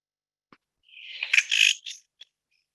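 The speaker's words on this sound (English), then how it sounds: "What you just heard is the hawk song of the yellow-headed blackbird." A recorded hawk song of a yellow-headed blackbird plays back as a single harsh, buzzy rasping phrase of about a second, loud and alone, bracketed by a couple of brief clicks.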